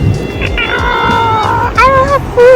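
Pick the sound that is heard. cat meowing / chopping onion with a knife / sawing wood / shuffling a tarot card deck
cat meowing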